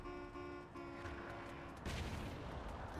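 Explosion in the Saints Row 4 video game erupts partway through as a broad, rumbling blast that swells and lingers, breaking over a steady tonal background.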